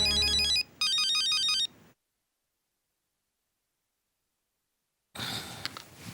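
Mobile phone ringtone plays a loud, bright electronic melody in two bursts with a short gap, then cuts off into silence before faint rustling follows.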